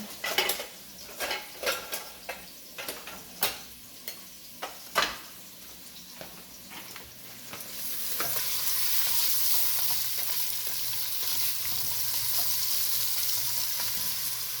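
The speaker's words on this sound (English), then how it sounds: "If you hear that sizzle, you know your oil is warm." Hot oil in a pan for homemade spaghetti sauce. Several sharp utensil taps and clinks come first, then a loud, steady sizzle sets in and holds to the end, with no talk.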